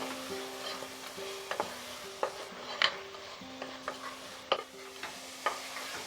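Mutton for pulao being stirred in a pan over medium heat, with a steady sizzle under repeated scraping strokes of a spoon at an uneven rhythm, close and fairly quiet, no talking.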